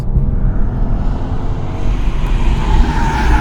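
Steady, loud drone of a BMW engine coasting down a steep downhill section with road and wind noise, the engine tone rising and falling through downshifts, with no talking.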